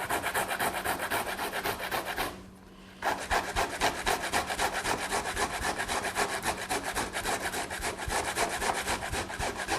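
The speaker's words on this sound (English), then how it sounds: "And grate a little bit of fresh ginger." Fresh ginger is grated for a pumpkin and coconut kitchari, with continuous rapid scraping strokes and a brief pause near the start, close and steady with no voice.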